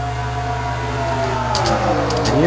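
IndyCars racing at speed in an IndyCar Series online race on a racing video game, a steady engine drone with rising pitch sweeps as cars pass, growing slightly louder toward the end.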